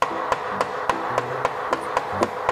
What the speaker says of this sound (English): I'm hitting my crib with a hammer